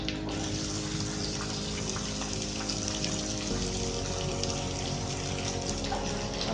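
A medium-size onion frying in a pan for an aloo gajar (potato and carrot) dish gives a loud, steady sizzle that holds unbroken from start to finish, with no voices.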